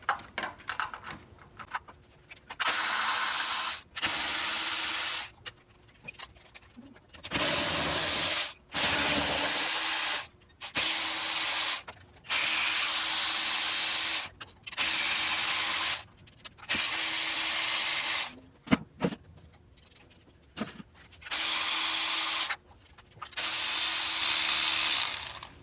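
A ratchet tool loosens ignition coil bolts on a Ford Explorer 3.5 engine, sounding as repeated bursts of loud, hissing ratcheting separated by short pauses, close and alone with no talking.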